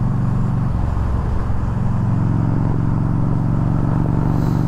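Yamaha V Star 1300 motorcycle engine running during a ride, a loud, steady low rumble that holds even throughout without clear revving.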